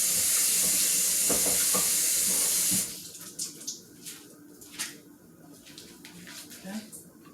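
A kitchen tap runs hard for about three seconds as chitterlings are washed, a loud close rushing hiss that cuts off abruptly, followed by quieter clatters and light handling sounds.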